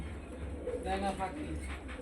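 Pigeons coo softly in a short, low burst about midway through, over steady background noise, with people talking nearby.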